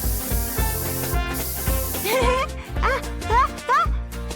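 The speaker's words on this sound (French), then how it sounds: "Arrête de pulvériser!" A spray is sprayed repeatedly: a loud, close hiss fills the first two seconds, then shorter hissing bursts break in while someone speaks with a high, bright voice.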